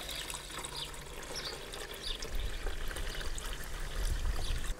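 Water poured into the reservoir of a Vevor ice maker, a steady splashing trickle that runs for about five seconds and grows a little louder toward the end, with no talking.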